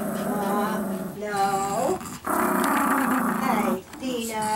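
A small Chihuahua growls in long, rumbling bursts close by, pausing briefly between them, while a person speaks over it.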